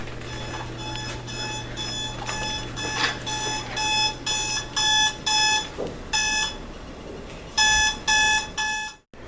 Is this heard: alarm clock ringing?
yes